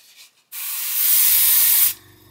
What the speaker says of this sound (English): Quick little spray on there.